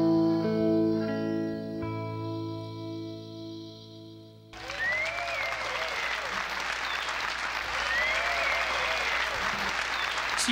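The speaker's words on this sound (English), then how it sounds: "we've put a little extra applause in there" A live concert crowd breaks into sustained, dense applause and cheering between songs, rising abruptly right after a fading sustained music chord ends.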